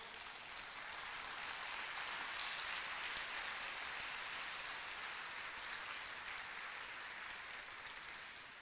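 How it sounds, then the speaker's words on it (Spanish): A church congregation applauds during a sermon, a steady, quiet wash of many hands clapping that is sustained for several seconds, somewhat distant and alone without speech. "Y si le da un aplauso, déselo al Señor"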